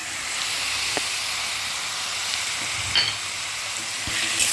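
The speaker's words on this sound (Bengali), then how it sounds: "খুব ভালো করে কিন্তু আদা রসুন কাঁচা গন্ধটা যাওয়া অবধি একটু ভালো করে নাড়িয়ে চাড়িয়ে কষে নেবে" Ginger, garlic and green chillies frying in a pan, a steady close sizzle and hiss with a few clinks and scrapes from stirring, loud and continuous with no talking.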